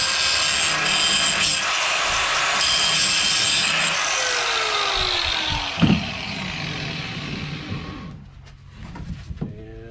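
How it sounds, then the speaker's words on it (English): An angle grinder working on pipe during welding aboard an Alaskan fishing boat, a loud steady abrasive whine that runs several seconds before winding down, followed by a few metallic knocks and clanks. "Hit this with the grinder."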